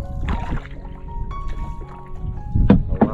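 A small wooden boat being rowed, with intermittent splashing and dipping of oars in water, close by, alongside faint engine hum and occasional background voices.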